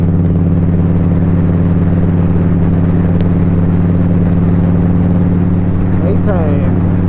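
Kawasaki Vulcan 1500 Nomad motorcycle cruising out of town, its engine a steady low rumble with loud continuous wind and road noise throughout, nothing else standing out.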